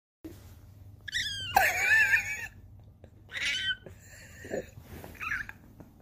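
A cat meows several times close by, with drawn-out, wavering cries and shorter calls spaced over a few seconds, with faint breathing and background noise between them.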